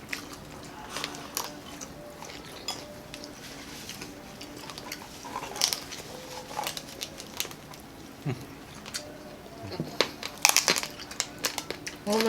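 Crispy oven-roasted spicy lechon belly roll with lemongrass crunches in irregular bursts of close chewing and crackling, mixed with quiet talking.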